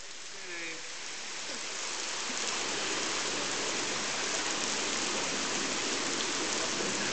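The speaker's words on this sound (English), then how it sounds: "The rain is warm." Steady rain pouring down outdoors at a cliff-diving spot, a dense broadband hiss that builds slightly and then holds evenly, with a brief voice-like murmur near the start.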